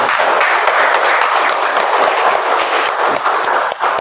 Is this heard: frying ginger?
no